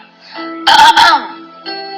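A single sharp throat clearing, two quick rasping bursts close to the mic, set against quiet background music.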